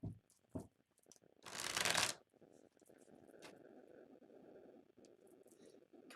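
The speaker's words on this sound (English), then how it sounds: "I'm hearing one more shuffle." Tarot cards being shuffled up close, a quick riffle burst in the middle framed by soft card handling and scraping, quiet overall.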